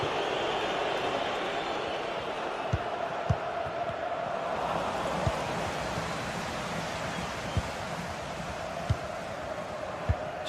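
Tense stadium crowd in a football video game, a broad, constant wash of massed voices like surf, punctuated by occasional sharp thuds of ball strikes, with no clear cheering peaks.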